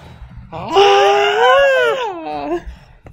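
A loud, drawn-out wailing yell from the Iron Man 3 movie, rising and holding for about two seconds before trailing off in a shorter cry.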